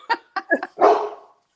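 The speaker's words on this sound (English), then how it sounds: "I did warn you about the big dog." A large dog barks a few times at close range, short sharp yaps followed by a longer, rougher bark that trails off, heard on an online show with no talk over it.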